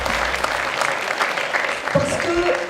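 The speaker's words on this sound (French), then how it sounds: "Je voudrais d'ailleurs qu'on applaudisse encore plus fort" An indoor audience applauds a medal winner at a French award ceremony, with steady continuous clapping and a voice talking over it.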